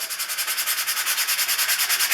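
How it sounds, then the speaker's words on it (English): Rapid back-and-forth rubbing of a sponge sanding block on a hand plane body, a close, hissy scratching in a quick, even rhythm. "Next thing I like to do, get an old sponge sanding block"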